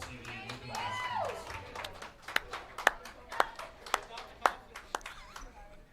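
Crowd applause at a women's bracket bowling event, with a few loud, distinct claps spaced about half a second apart under continuous talk and background crowd noise.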